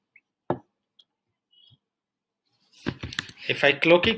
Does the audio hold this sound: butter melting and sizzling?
no